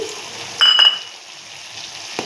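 Okra, potato and prawns frying in a pan as they are stirred, a steady soft sizzle with a brief louder scrape of the spatula near the start and a faint clink toward the end.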